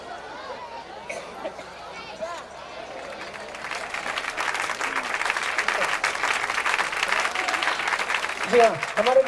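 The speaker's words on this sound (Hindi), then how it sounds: "जोरदार तालियां बजनी चाहिए हमारे सारे अतिथियों के लिए जो हमारे बीच उपस्थित हैं" An audience at a school annual function breaks into sustained applause that swells and carries on, under crowd chatter and a voice near the end.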